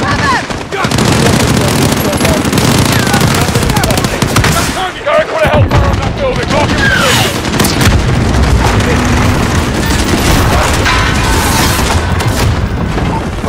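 Airstrike explosions boom and rumble in Call of Duty: Modern Warfare, dense bursts of heavy blasts and rapid gunfire layered over each other, loud and continuous with a short lull midway, radio chatter mixed in.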